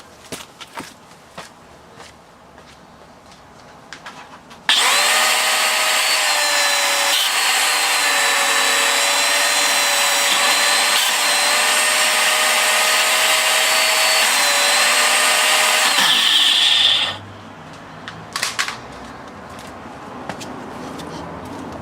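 A Shark Rotator NV380UK upright vacuum cleaner under repair runs outdoors in a loud, steady high-pitched whine for about twelve seconds, starting abruptly and cutting off, with faint clatter before and after.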